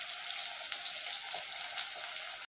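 Onions sauté in a pan for a karamani kara kulambu, giving a steady, close sizzle of frying with faint stirring, which stops abruptly at the end.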